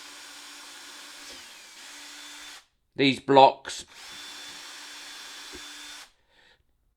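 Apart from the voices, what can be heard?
power drill counter-drilling wooden blocks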